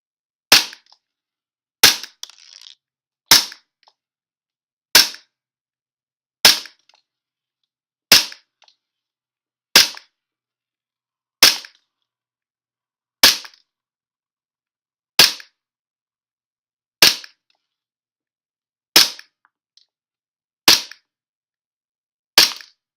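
A WE Glock 17 gas airsoft pistol with a plastic magazine fires about fourteen single shots at a steady, spaced rhythm, each a sharp loud crack with a short mechanical rattle, close and alone.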